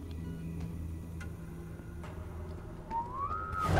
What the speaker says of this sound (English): Hey, Data, whistle for me